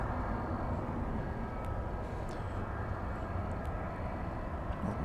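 An American Airlines Airbus A319 arriving from Kansas City, a steady broad jet roar at moderate distance that holds evenly throughout, with no voices over it.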